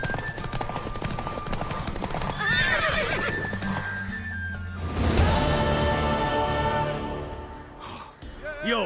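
A horse gallops with rapid, rhythmic clip-clop hoofbeats and lets out loud whinnies in The Witcher 3: Wild Hunt, with game music and a voice speaking over the hooves.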